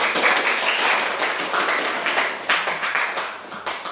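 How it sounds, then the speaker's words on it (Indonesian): Students in a classroom clapping for a classmate's answer: a short burst of uneven hand claps with distinct sharp slaps, moderately close, fading toward the end. "Beri tepuk tangan."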